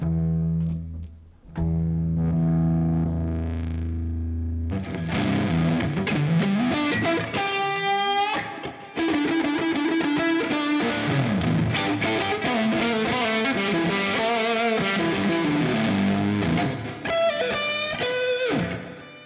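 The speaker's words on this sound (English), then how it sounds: "And I better kick that distortion on." An electric guitar plays through a Line 6 Pod Express amp modeler with distortion engaged and a simulated 4x12 Mesa Boogie cabinet: a clean chord first, then a burst of crunchy, saturated riffs and sustained lead notes, loud and continuous with brief pauses.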